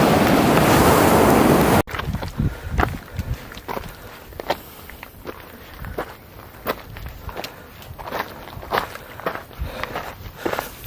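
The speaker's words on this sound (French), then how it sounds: "On est toujours le long de la plage." Footsteps along a beach on Fuerteventura, crunching in a steady walking rhythm close to the microphone with soft surf and wind noise behind, after a loud burst of wind at the start.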